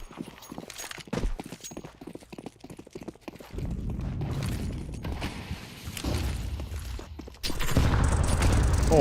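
Grenade explosions in a Counter-Strike match, heavy blasts following rapid clattering gunfire and footsteps, with a loud burst near the end.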